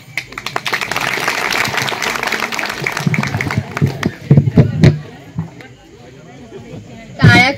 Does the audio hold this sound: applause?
yes